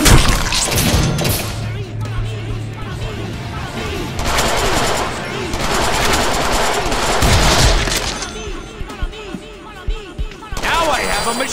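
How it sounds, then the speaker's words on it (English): Rapid machine gun bursts in Deadpool gameplay, loud and sustained with thuds and crashing impacts mixed in, while a voice talks over parts of the action. "Now I have a machine gun"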